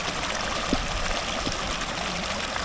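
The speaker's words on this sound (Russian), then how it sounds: "Это ручеек Каспансай." The small Kaspansai mountain creek in the Aksai gorge flows in a steady, close, bubbling rush that stays even throughout with no voices.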